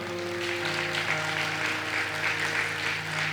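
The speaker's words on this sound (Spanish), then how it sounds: "Denle un fuerte aplauso al Señor" Steady applause from a church congregation fills the space, dense and continuous without a break, with a low sustained tone humming underneath.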